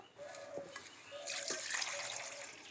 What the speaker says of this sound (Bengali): এর মধ্যে আবার জল দিয়ে দেবো আমি, যতক্ষণ পর্যন্ত পরিষ্কার জল না বেরোচ্ছে ততক্ষণ পর্যন্ত এরকম আমি করে নেব, বারবার জল ছেঁকে নেব।